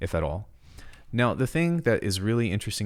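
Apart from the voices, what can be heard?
No everyday noises stand out.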